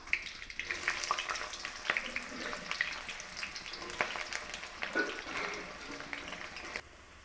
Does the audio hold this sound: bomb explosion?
no